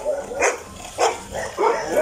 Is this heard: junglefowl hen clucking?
no